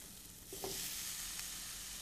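Mushrooms hit a hot pan already seasoned with coriander and garam masala powder, setting off a soft, steady sizzle that swells after a brief stir and holds fairly quietly, with no voices.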